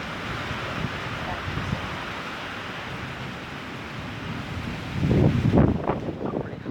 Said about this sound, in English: high-speed winds throughout the storm